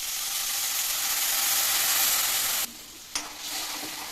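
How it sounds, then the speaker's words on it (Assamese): Cumin powder, coriander powder and meat masala fry in a pan with a loud, dense sizzle that drops off sharply partway through, followed by softer sizzling and a stir. "অলপ জিৰা পাউডাৰ ধনিয়া পাউডাৰ মিট মছলা আৰু এইখিনি এতিয়া মই ধুনীয়াকৈ ভাজি ল'ম"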